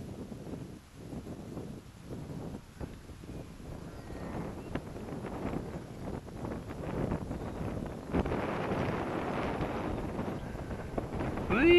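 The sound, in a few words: wind blowing on a slope while flying a glider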